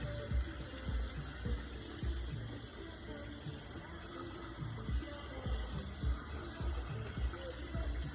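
Tap water runs steadily at a lighter pressure while hair is rinsed under it during a hair cleanse, a continuous close splashing wash with faint shifts as the stream hits the head.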